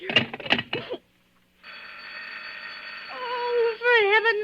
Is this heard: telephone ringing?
yes